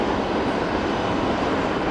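Steady broadband roar of a Cessna Citation II business jet at Geneva Airport, loud and constant with no break, no voices over it.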